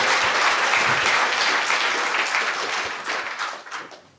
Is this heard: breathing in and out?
no